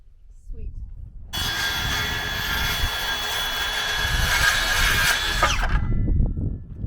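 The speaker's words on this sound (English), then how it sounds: "I'm sawing boards." A power saw cuts through wooden boards for shed siding in one loud, steady buzzing pass of about four seconds, with a short whine as the cut ends. Low rumbling noise sits under it.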